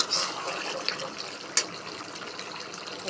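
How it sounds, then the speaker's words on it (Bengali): Broth poured into curry cooking in a pan, a soft continuous liquid pour and bubbling wash with a couple of brief metallic clinks, close and fairly quiet, no talking. "একটু ঝোল দিয়ে ভালো করে জাল দিয়ে দিই"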